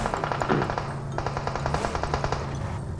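Rapid bursts of automatic gunfire in PUBG Mobile rattle continuously with a slightly synthetic, game-like tone, loud and steady throughout.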